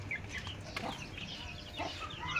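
Chickens on a small farm cluck in a few short, scattered bursts, moderately close, over faint background noise.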